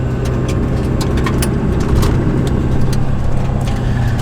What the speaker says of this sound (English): Let's hear how many rocks come flying off my tires now.